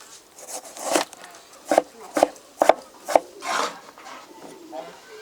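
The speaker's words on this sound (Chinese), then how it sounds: "把猪瘦肉先切成末" Lean pork is minced with a kitchen knife on a wooden board, a run of sharp, close chopping thuds at an uneven pace, with scraping in between.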